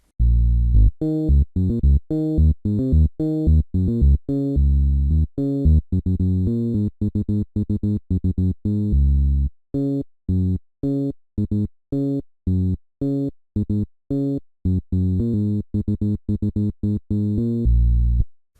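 An electronic seben bass line made in FL Studio, with a choppy, repeating rhythm of short punchy notes, loud and alone, pausing briefly partway through.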